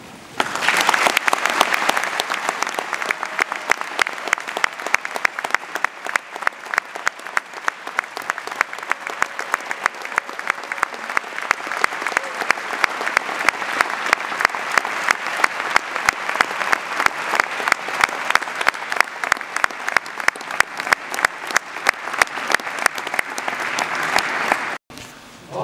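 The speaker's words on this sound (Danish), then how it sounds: "skulle vi ikke give de nye læger et stort klap?" An audience at the University of Copenhagen's new doctors' oath ceremony claps for the newly qualified physicians, a long, loud burst of applause that settles into a steady rhythmic clapping in unison and stops suddenly near the end.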